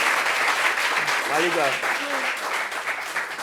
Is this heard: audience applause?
yes